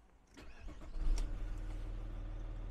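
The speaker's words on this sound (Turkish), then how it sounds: "Şöyle marşına basalım." An Audi A6 Allroad Quattro diesel engine cranks with a brief starter whir, then catches and settles into a steady, rough, low idle heard up close.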